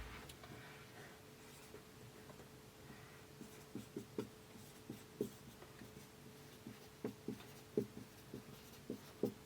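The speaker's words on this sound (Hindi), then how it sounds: "चलिए मैं यहां पर लिख देता हूं" Pen writing Hindi shorthand by hand, a quiet series of short, close scratching strokes that grow more frequent and distinct toward the end.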